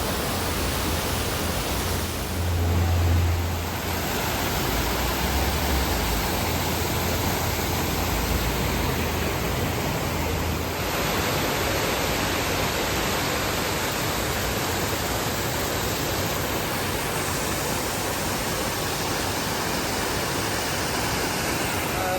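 Continuous rushing water from waterfalls beside a restaurant in Albania, a dense, even hiss that stays steady throughout with a faint high whine above it.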